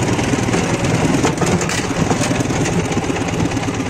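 A Dnepr motorcycle engine runs steadily while riding off-road at a quarry, a loud, continuous, throbbing drone heard close up with no talk over it.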